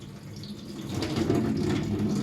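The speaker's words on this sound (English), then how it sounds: "Before we do the actual surgical hand wash, we're going to do a pre-wash." Running water from a tap during a surgical hand pre-wash, a steady close splashing flow that swells slightly after the first second and carries on without talk.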